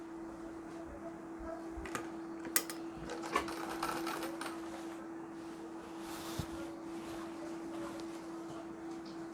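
An electric sewing machine runs stitches along the border of a Marathi-style saree at a steady, fairly quiet whir with a constant motor hum. Small clicks and knocks from handling the fabric are heard and no one talks.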